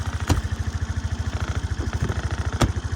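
A Suzuki Address V125 S scooter idles close by with a quiet, even, rapid putter and a couple of faint ticks, and nobody talks.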